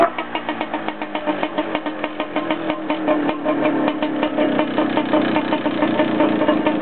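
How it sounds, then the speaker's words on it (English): A boat's petrol engine idles at the Brightlingsea Osprey, running steadily and fairly loud with an even, regular rhythm of firing pulses and no talk over it. "So you just idle it to get into the gear"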